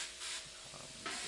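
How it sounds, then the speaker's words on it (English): Star 10 paint stripper sprayed from a nozzle makes short, soft hissing bursts, two brief puffs of spray close by with a quiet gap between them. "Spraying our product is very"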